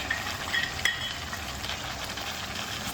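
Soaked peanuts going into a pan of frying vegetables for bhogi bhaji, a steady close crackling sizzle with a few brief louder pops near the start. No one speaks.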